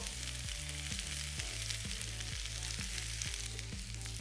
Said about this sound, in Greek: όταν σοτάρουμε το κρεμμύδι και το σκόρδο, παίρνουμε ένα διαφορετικό υλικό